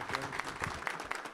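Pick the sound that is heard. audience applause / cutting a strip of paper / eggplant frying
audience applause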